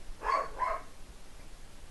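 A dog gives two quick barks from some distance, then quiet hiss remains.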